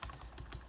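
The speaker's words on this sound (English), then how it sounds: "if I type something" Quick, light keystrokes on a computer keyboard while a chat message is typed into a GameMaker multiplayer platform game, a soft close clatter of several taps in under a second with no voices.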